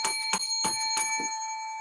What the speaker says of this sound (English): Forgot about the bell in the last round.